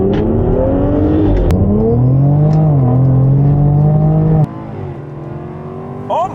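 Several cars rev hard side by side in a drag race, a Jaguar F-Type R, Audi S4 and Infiniti Q60, with engine tones climbing through gear changes, loud and close, before easing off into a quieter whir.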